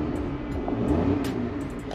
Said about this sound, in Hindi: सबसे पहले मैं आपको रेव करके दिखाता हूँ अंदर